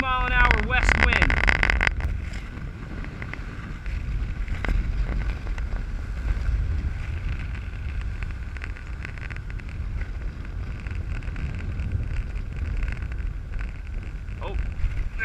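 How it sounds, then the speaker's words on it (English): Strong 20-mile-an-hour west wind buffets the microphone at the shore of a Rhode Island breachway while surf fishing, a continuous low rumble with gusty swells, a sharp burst near the start, and faint voices beneath. "Got about a 20-mile-an-hour west wind."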